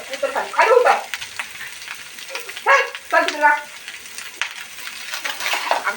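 Bangda mackerel frying in a pan with ginger-garlic paste and Malvani masala, a steady close sizzle punctuated by louder bursts of spatter and stirring clatter, with no talk over it.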